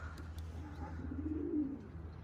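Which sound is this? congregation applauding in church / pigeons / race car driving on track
pigeons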